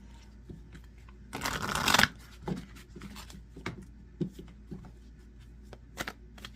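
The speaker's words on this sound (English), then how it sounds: "I'm gonna pull another few cards here for my message twos." A deck of tarot cards is shuffled in one loud riffle lasting about a second, followed by scattered soft taps and card handling.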